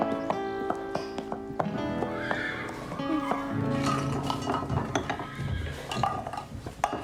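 A horse arrives with clip-clopping hooves, a series of close, sharp knocks over a busy backdrop of clinking and tonal background sound.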